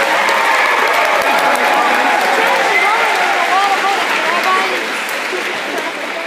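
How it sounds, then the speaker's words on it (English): Steady, dense audience applause fills a large hall at the closing ceremony of the 2014 MLTI conference at the University of Maine. Voices and cheers mix in, and the clapping eases slightly toward the end. "give you a big round of applause"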